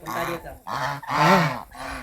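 Domestic geese kept on a hillside farm at Mt. Romelo give three loud, close honking calls in quick succession, each a harsh, nasal burst separated by short pauses.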